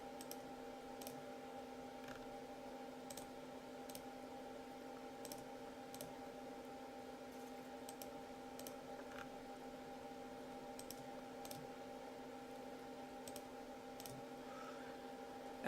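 Computer mouse clicks sound as sharp, faint, isolated taps at irregular intervals over a quiet, steady electrical hum, with no talking.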